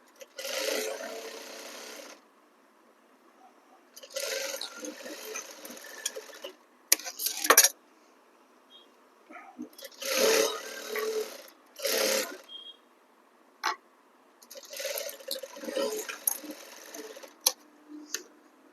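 A sewing machine stitches a boutique-style back-hook blouse in several separate runs of steady, rapid mechanical whirring, each lasting a second or two, with quiet pauses and faint clicks between them.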